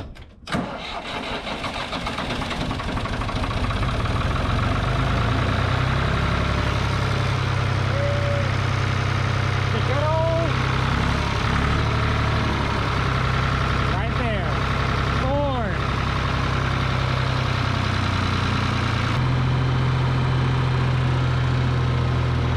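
A tractor engine cranks and catches, then settles into a steady, loud running rumble for the rest of the stretch, with people talking intermittently over it.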